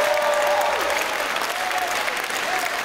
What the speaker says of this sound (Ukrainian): Давайте ще раз поаплодуємо.